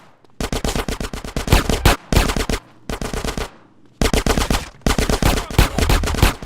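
Automatic gunfire rattles in rapid, loud bursts during a shootout at a Los Santos motel in GTA San Andreas, several sustained volleys broken by brief pauses, with no talk over them.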